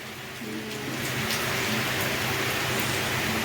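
Steady rain hisses broadly and evenly, growing slightly louder after the first second, with faint low tonal hum underneath and no voices.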